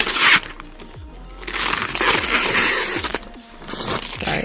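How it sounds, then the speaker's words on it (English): Blue protective film is peeled off a MelodySusie LED nail lamp, giving a close, continuous crackling and rustling tear with a few sharper crinkles along the way. "so let's peel that off"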